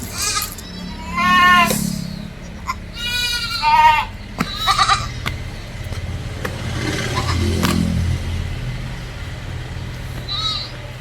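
A heavy first-kid Malabari cross doe and her two roughly six-week-old kids, a male and a female, bleat repeatedly in a series of close, wavering calls. Traffic rumbles low underneath, and a car is heard passing.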